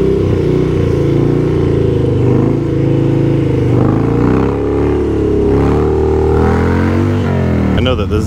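A motorcycle ridden on a bald rear tire drones loudly and close with steady engine rumble and wind buffeting, rising and easing slightly in pitch as it rides.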